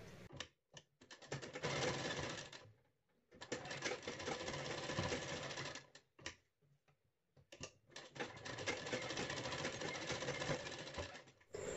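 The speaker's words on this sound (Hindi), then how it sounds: "रखने के बाद अच्छे से बनाते हुए गले पर सिलाई लगा देंगे।" Sewing machine stitching the neckline of a net blouse, running in loud rapid bursts of needle clatter that stop and restart several times with short pauses between.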